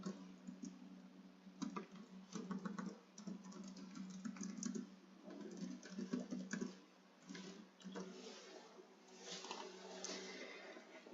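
Text being typed on a computer keyboard, with soft, close key taps in irregular bursts and brief gaps, mixed with a faint low background hum.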